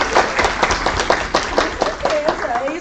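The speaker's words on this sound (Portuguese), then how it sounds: "Vamos dar um salve de palmas pra ela" Participants at a hospital communication training session clap in a brief round, individual claps distinct and fairly close, with voices and a short vocal sound mixed in over it.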